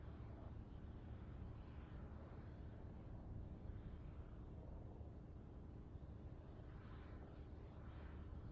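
Military aircraft at the Farnborough International Airshow run in towards the centre ahead of a close break, giving a steady, broad jet roar that holds loud and even throughout, with no talk over it.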